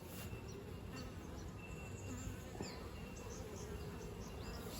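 Honeybees swarming around an opened top bar hive during an inspection, a dense, continuous buzz of many insects close by, with brief louder passes of individual bees.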